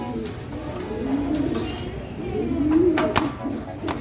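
Pigeons coo in low, throaty murmurs close by in a loft, with a few sharp clicks and shuffling sounds around them.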